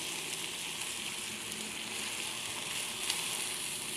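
A dish bubbling in a pan after a little water is added, a steady dense sizzle and crackle that stays close and even throughout, with no voices.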